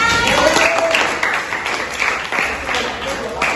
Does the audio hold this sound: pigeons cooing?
no